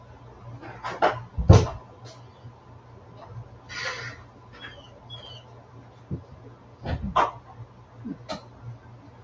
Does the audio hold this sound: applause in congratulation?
no